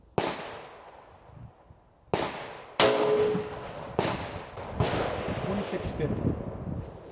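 Antique cartridges fired from an old M1917 rifle at a range: five sharp, loud shots spaced irregularly over several seconds, each a sudden crack with a short decaying tail, with a faint voice between reports.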